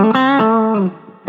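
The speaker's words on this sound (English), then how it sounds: "Just a little wet delay" Electric guitar sent through a wet delay effect, a sustained harmonic-rich note ringing out with a second attack and fading repeats, close and fairly loud with no talking.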